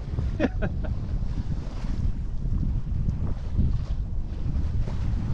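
Stiff wind buffets a sailboat out on Lake Ontario, a steady, close rushing roar with low gusty rumble and faint water sounds throughout.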